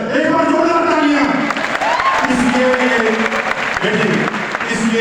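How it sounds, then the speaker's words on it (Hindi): A big audience in Delhi's Thyagraj Stadium claps loudly and continuously, with cheers and shouts rising through the applause and voices audible in the crowd. "एक बार जोरदार तालियां"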